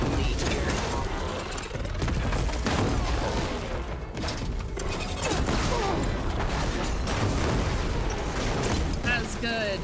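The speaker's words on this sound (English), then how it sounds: "You got a nice explosion there." Dense, continuous game action from Horizon Forbidden West, with a loud sustained roar of blasts, mechanical clanking and debris filling the whole stretch at full volume with no pauses.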